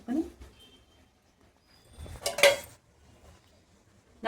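A pot of Godavari-style fish curry (cheppala pulusu) with green chillies, coriander and water is stirred, giving short clinking, scraping bursts near the start, in the middle and at the very end, with quiet gaps between.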